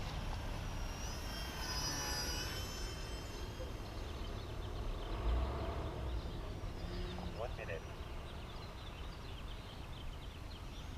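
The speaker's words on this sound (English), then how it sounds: "I love the way this little plane flies." A small 3D RC airplane flies over a quiet residential street, its motor giving a thin, fairly distant whine that rises and falls as it passes, over steady outdoor background noise.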